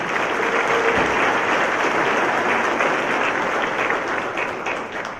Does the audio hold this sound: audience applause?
yes